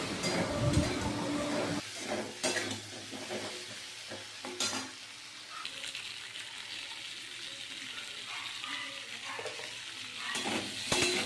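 Hilsa fish and taro pieces fry in a pan with turmeric and salt while being stirred, giving a steady sizzle with periodic scraping bursts of stirring, moderately loud.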